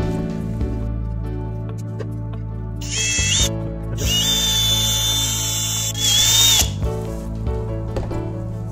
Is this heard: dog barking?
no